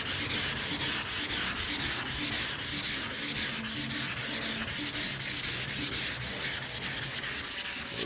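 Hand sanding with sandpaper on the body of a 1981 Oldsmobile G-body car, a close, steady back-and-forth rasp repeating about three strokes a second for the whole stretch, with no talking.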